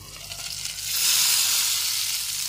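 Chicken legs frying in oil under a lid in a covered pan, giving a steady, close hiss of sizzling that grows slightly louder partway through and keeps going with no talk.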